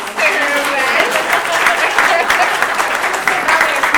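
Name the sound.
audience applause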